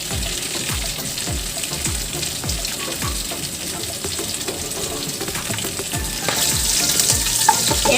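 Bay leaf, cinnamon and cracked cardamom pods hit hot oil for a prawn malai curry, giving a bright continuous sizzle with repeated low stirring knocks against the pan, the hiss swelling louder toward the end.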